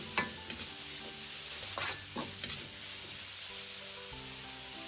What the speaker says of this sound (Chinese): 接着倒入控干水分的绿豆芽， 稍微翻炒几下